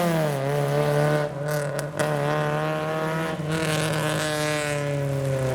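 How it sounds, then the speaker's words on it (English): A BMW does a burnout at a car meet during heavy rain. Its engine holds a loud, sustained high-revving roar with small wavering dips, while rain hisses steadily beneath it. "someone's doing a burnout up there"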